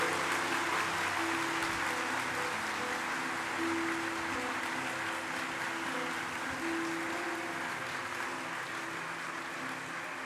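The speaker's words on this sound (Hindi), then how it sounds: "तालियों के नाद से स्वागत किया जाए बागेश्वर धाम का।" A large audience claps in welcome for Bageshwar Dham at a Hindu religious stage event, a dense, steady wash of applause over a sustained musical tone, continuing without a pause for the whole stretch.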